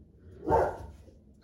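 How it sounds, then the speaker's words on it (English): A single dog bark rings out at moderate distance over a quiet background, one short sharp burst that fades quickly. "where's she barking at?"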